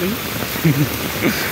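Heavy rain and storm wind at a bus stop on the way back from the office, a dense steady roar up close, with people talking intermittently over it.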